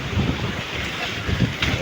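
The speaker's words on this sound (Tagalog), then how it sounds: "Lakas ng hangin" Strong wind at sea blows across the microphone aboard a fishing boat, a continuous rough rumble with waves beneath, briefly and fairly loud.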